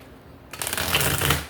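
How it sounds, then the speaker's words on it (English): A deck of tarot cards being shuffled, a quiet pause followed by a sudden close, crisp riffling burst of flapping cards lasting about a second. "So let's shuffle 3 times."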